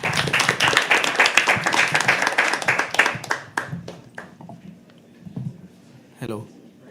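Enthusiastic clapping from an open-mic poetry audience welcoming a poet, loud and dense for about three seconds, then thinning to a few scattered claps and a short final burst, with murmured voices underneath.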